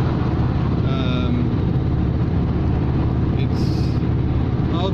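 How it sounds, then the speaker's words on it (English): A 7.5 ton truck engine strains uphill at full throttle in fourth gear, a loud, constant low drone with road and wind noise throughout, and a voice talking over it. "foot flat to the floor in fourth gear going up this hill"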